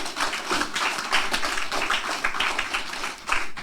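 A church congregation gives a loud round of applause during a Filipino worship service, many hands clapping in a dense, sustained patter that fills the room without any talk over it.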